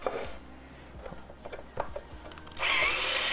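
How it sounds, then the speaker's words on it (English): A cheap drill bit bores holes in stages through the plastic of a bathroom extractor fan, with scratchy grinding and several short taps and knocks, then a steady rising whir of the drill at the end. "drilling them in steps actually makes things way easier"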